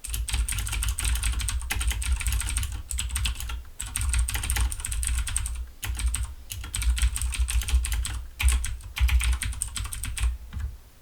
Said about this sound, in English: here is how a mechanical keyboard sounds like when used with this microphone